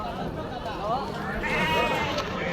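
Goats and sheep bleat repeatedly at a busy livestock market in Kadiri, their wavering calls rising over a constant crowd murmur and nearby talk.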